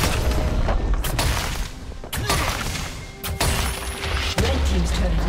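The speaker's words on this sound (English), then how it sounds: "Red team's turret has been destroyed." A turret destroyed in League of Legends, loud booming explosion bursts and crashing impacts repeating every second or so, with game announcer voice speaking over them.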